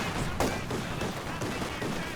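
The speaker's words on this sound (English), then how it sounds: "Panzer II firing on the penal battalion as it marches forth." Panzer II tank cannon and gunfire in a video game battle, firing on advancing infantry: a dense barrage of overlapping blasts and crackling shots, loud and continuous with a sharper report near the start.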